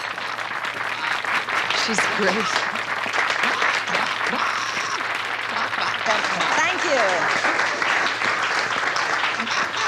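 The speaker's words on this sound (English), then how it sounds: "Let's have a big round of applause." A crowd applauds steadily at a stage show after a hypnotist's act, the clapping sustained throughout with a voice speaking briefly over it.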